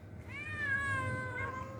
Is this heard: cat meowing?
yes